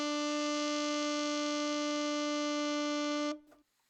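A single sustained middle B from an alto saxophone, held clean and steady for over three seconds at close range, then cut off sharply, leaving a brief soft tail.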